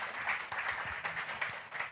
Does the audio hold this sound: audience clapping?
yes